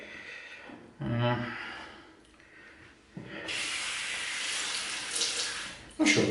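Water runs from a shower in a home bathroom, starting with a splashing burst, easing, then returning as a steady hissing spray close by, with a brief louder splash at the end.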